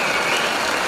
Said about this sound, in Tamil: இந்த கைதட்டு பத்தாது